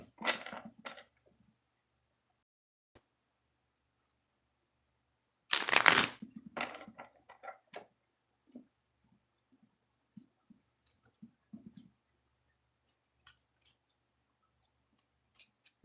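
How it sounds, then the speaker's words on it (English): Tarot cards shuffled by hand in two short bursts of riffling and snapping card edges, close and crisp against near silence, with scattered faint taps and handling noises between. "Two shuffles."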